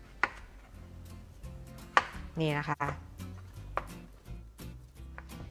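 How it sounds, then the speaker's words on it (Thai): A knife chops jicama on a cutting board in a home kitchen, making a few sharp, widely spaced knocks with a scraping stretch in the middle, while someone talks quietly. "แป้งมันยาวเนอะเวลาหั่นมันหั่นยากนะคะ"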